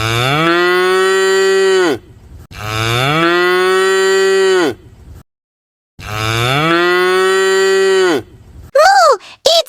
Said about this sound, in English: It's a cow. The cow says moo!